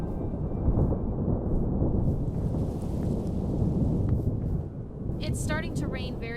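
Heavy rain with thunder in Minecraft during a tornado storm, a dense steady rumbling wash; game tones chirp near the end.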